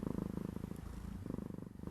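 A cat purrs on a lap, a faint, close, rhythmic rumble with rapid regular pulses that continue steadily and alone, without talk.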